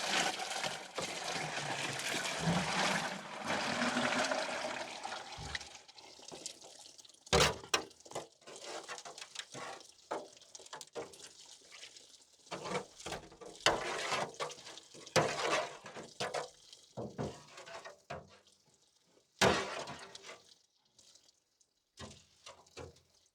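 Water sloshing as a wheelbarrow is washed out while panning for gold outdoors, a burst of splashing at first followed by scattered knocks, scrapes and trickles, close and without talk.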